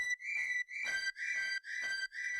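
Short, breathy flute-like synth notes from a 2000s–2010s style pop beat, repeating in a steady pattern of sustained tones with soft breaks between them, fairly quiet and without any voice.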